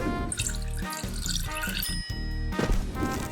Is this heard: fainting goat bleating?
no